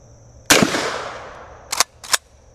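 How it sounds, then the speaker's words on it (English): A 410 gauge shotgun slug fired from a Kel-Tec KSG: one loud, sharp blast with a long decaying tail, followed by two shorter, sharp bangs, with no talking. "410 gauge, shotgun slug."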